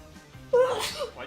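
A person sneezes once, a sudden fairly loud burst with a breathy catch, heard close and alone over a quiet background.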